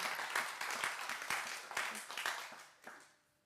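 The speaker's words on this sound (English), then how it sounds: "can we have one more round of applause for that?" An audience at a drama school show applauds a volunteer, a modest round of clapping with a few sharper claps standing out, fairly faint and fading away near the end.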